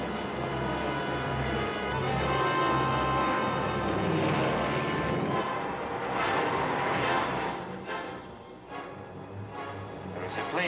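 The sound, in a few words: approaching airplane in 1950 film serial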